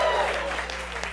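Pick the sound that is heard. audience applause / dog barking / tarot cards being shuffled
audience applause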